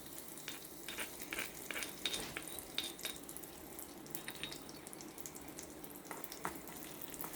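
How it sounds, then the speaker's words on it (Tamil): Onions fry in hot oil for a mutton fat kuzhambu, a steady sizzle with scraping and stirring sounds layered over it, close and continuous with no talking. "இப்போ நம்ம வெங்காயம் போட்டுக்கலாம்."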